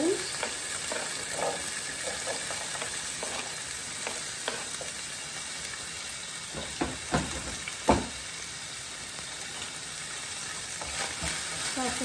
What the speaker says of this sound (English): I'm going to be throwing in the green beans.